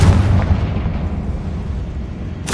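A Confringo spell explosion in a Harry Potter video game hits as a loud, close blast that rolls into a sustained low rumble, with a sharp burst at the very end.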